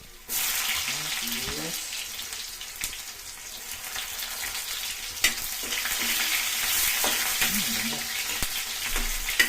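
Chopped garlic fries and browns in hot oil in a pan, a steady close sizzle with occasional scraping stir strokes across nearly ten seconds, no talking.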